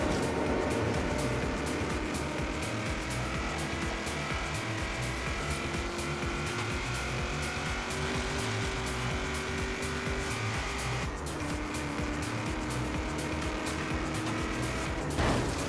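Car engine from Forza Horizon 3 racing game, a steady loud drone with rising and shifting gear tones across the whole stretch, a brief dip near the end, no talking over it.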